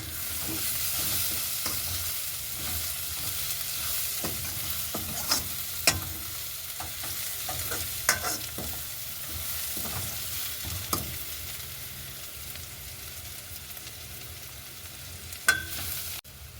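Curry leaves and pandan leaves sauté in a pan for rava upma, with a steady frying sizzle and scattered clicks of a spoon stirring, no one talking.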